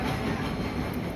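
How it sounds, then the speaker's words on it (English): A train stands at a platform of Panvel station, giving a steady, loud rumble with a low mechanical hum and faint clatter that never lets up, and no voices are heard. "That is our train."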